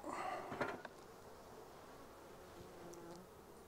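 Honeybees buzzing at a beehive, a continuous close droning hum that stays steady throughout, with a few brief handling knocks at the start and no speech.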